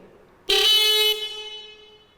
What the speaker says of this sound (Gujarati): સર્કિટ પૂર્ણ થતાં બંને હોર્ન કમ્પ્લીટ વાગે છે